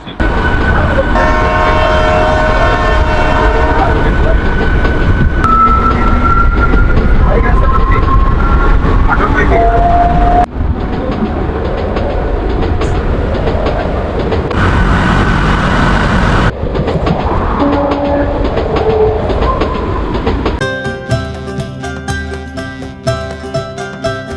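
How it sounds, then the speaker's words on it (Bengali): A local night train running from Asansol toward Durgapur sounds its loud horn in long tones, then rumbles and rattles steadily along the rails up close while people talk over it. "সেই সঙ্গে ট্রেন কিন্তু হর্ন দিয়ে ছেড়েও দিল"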